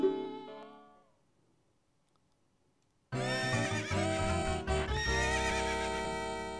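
A horse in Ocarina of Time gives a ringing neigh that fades into quiet, then hooves and a louder whinny burst in with bright music as riding begins.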